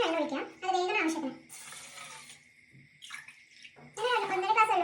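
Water poured from a jug into a cooking pot while making a mango sago dessert: a steady splashing rush lasting about a second, framed by voices talking before and after.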